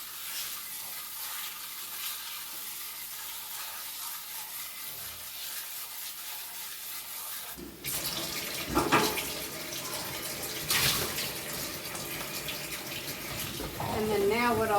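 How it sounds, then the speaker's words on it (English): Tap water running to rinse mung beans in a tray, a soft trickle at first that becomes a fuller, louder splashing stream partway through, with brief clatters mixed in. "the first time I'm just going to rinse them."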